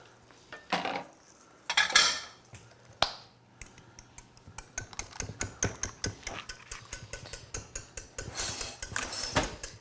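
Kladdkaka batter with chocolate chips and flour being stirred in a bowl, with irregular clinks and scrapes of utensil against dish, some sharp taps, then a quicker run of rhythmic knocks.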